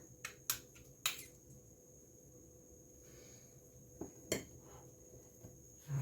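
A spoon scoops lemon ricotta muffin batter out of a bowl in a quiet kitchen, giving a few sharp clinks and taps spread across the stretch.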